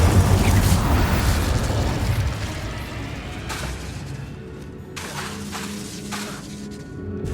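Spell effects from Hogwarts Legacy on PS4, Glacius ice and Incendio fire, heard as a dense, loud run of booming, shattering bursts over a steady rumble, with several sharp impacts toward the end and no talking.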